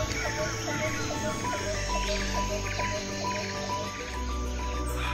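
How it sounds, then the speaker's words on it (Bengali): Birds call and chirp in a forest of tall sal and teak trees at Jhargram, with repeated short calls over a steady insect drone and a low rumble of ambience, no voices present. "কান পাতলে শুনতে পাবেন আপনারা এখানে বিভিন্ন পাখির ডাক"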